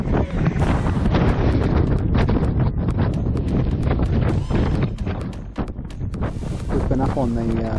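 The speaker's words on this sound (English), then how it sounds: "the wind has been gusting between 20 and 40 kilometres an hour" Strong wind gusting at 20 to 40 km/h across the Ruahine mountain range roars loudly and continuously against the microphone, with brief dips between buffets and faint voices underneath.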